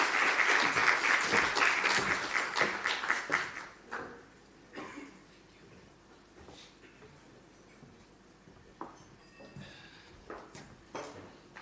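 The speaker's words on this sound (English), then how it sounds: "Let's give him a round of applause as he comes up." A round of applause at an employee celebration event as the company CEO comes up, loud and dense clapping for about four seconds, then fading to scattered claps and quieter room sounds.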